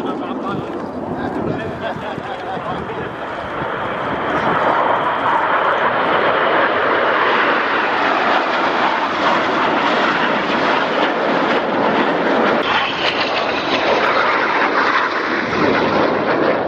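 Military display jets roar overhead at the Royal International Air Tattoo, a loud sustained broadband engine rush that swells after a few seconds and holds steady as the aircraft passes, with a commentator's voice over the public address.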